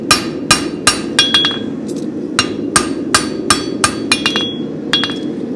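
A hammer forges spavin horseshoes on an anvil, striking sharp, ringing metallic blows in quick irregular runs of single hits and doubled taps, loud and close over a low background hum.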